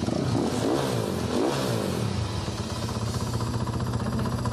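A Dakar rally motorcycle shown at an indoor boat show revs loudly up close, with a few sharp throttle blips rising and falling before it settles into a steady, rough high idle.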